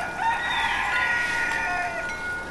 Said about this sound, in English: Rooster agrees.